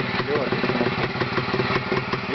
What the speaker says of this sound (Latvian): Skaņa tāda dīvaina, viencilindra.